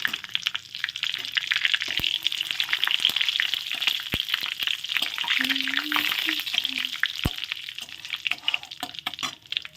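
Whole cumin seeds, dried red chillies and bay leaves fry in hot oil with a steady, broad sizzle that runs the whole time, broken by a few sharp pops and light stirring clicks.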